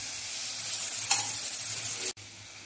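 Butter sizzles softly in a pan as it is stirred, a steady crackling hiss with a brief scrape partway through, cut off abruptly near the end.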